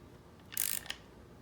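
A ratchet snugs down a bolt on a Yamaha YFZ450 quad frame during assembly. One short burst of rapid metallic clicks is followed by a single final click, close and quiet, over faint background hiss.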